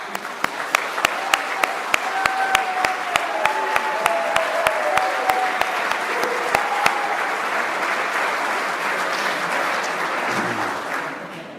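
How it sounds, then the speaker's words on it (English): Large audience applauding at a business convention in Dubai, a full wash of clapping with a few sharp, louder claps up front, mingled with whoops and cheering voices before easing slightly toward the end. "Let's give a round of applause to them."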